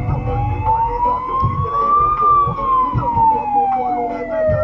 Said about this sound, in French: J'étais en train de chercher la sirène, où est-ce qu'elle était?